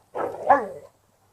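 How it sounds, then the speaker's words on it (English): A single drawn-out dog bark, close and fairly loud, heard by itself with no talking, then silence. "Sorry, that's my dog."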